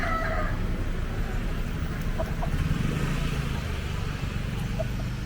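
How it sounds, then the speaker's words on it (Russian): Roosters on a busy street in Pasay, Manila, with a brief high crow or squawk near the start and scattered faint clucks over steady traffic rumble from cars and motorcycles. "Вот здесь можно посмотреть, смотрите, на петушков"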